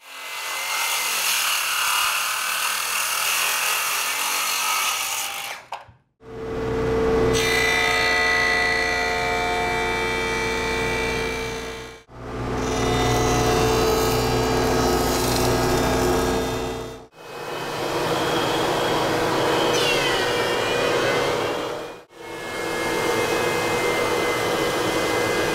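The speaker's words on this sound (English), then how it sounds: "I'm going to surface it four sides square, just the initial milling to get it flat and square" Walnut boards being milled flat and square on woodworking machines: four long, loud, steady passes of whirring cutter noise, each separated by a brief drop to near silence, with no talking.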